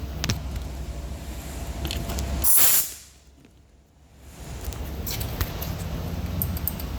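Compressed air lets out a short, loud hiss as the air line is hooked up on a 2013 Dodge Avenger with a P0440 evap fault; the burst cuts to near silence, then a steady background hum returns.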